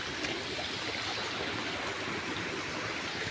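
A small village waterfall pours its water in a continuous, steady rush, close and even, with no voices or other sounds over the flowing stream.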